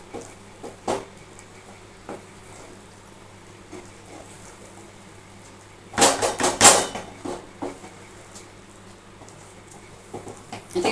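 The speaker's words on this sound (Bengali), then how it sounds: "এটাকে ভালো করে একটু নাড়াচাড়া করছি।" Modak dough of milk and flour being stirred in a pan over low gas, heard as faint scattered taps followed by a loud cluster of scraping and clattering strokes in the middle, then quieter knocks.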